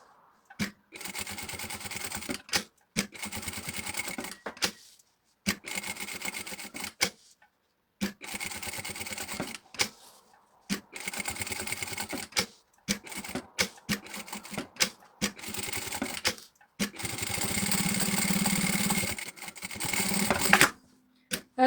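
Sewing machine stitching a seam around a fabric wing for a hen-shaped egg holder, running in bursts of rapid mechanical stitching separated by short pauses, with a longer, denser run near the end.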